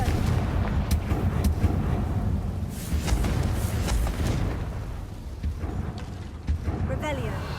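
Confringo fire spell blasts in the Hogwarts Legacy video game land as several sharp, booming explosions over a rumbling backdrop, with a voice speaking over the action.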